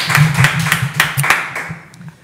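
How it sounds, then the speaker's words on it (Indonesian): A small group claps briefly on an Indonesian talk show, with a run of about eight quick, close hand claps that thin out and fade within two seconds. "Tepuk tangan dulu untuk Marco."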